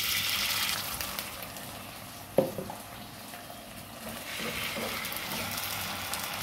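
Onion sautéing with tomato sauce in a pan gives a steady, moderate sizzling hiss throughout, broken by a single utensil clink partway through.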